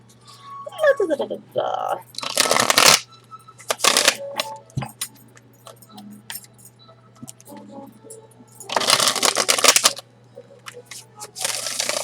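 Crisp riffling bursts of cards being shuffled, two main flurries with quieter handling and a voice talking between them.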